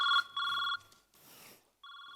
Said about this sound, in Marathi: म्हणजे बायकोचा फोन आलाय